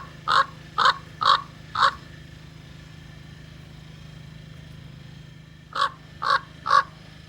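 A large crow caws outside a hotel in Jackson, Wyoming, giving four loud, evenly spaced caws, then a pause, then three more, over a steady low engine hum.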